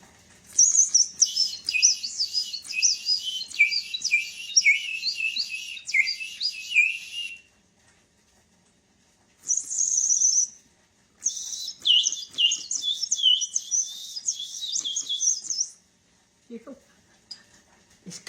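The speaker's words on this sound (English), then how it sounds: "And you blow it, and it's supposed to sound like a bird." A water-filled ceramic bird whistle is blown in bursts, giving bright warbling trills like birdsong, loud and close, in two long runs separated by a short break and a brief pause.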